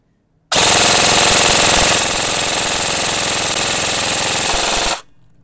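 G&G GT Advanced line airsoft gun firing full auto, a single sustained rapid mechanical burst of about four and a half seconds, loud and close, beginning and ending abruptly with quiet on either side.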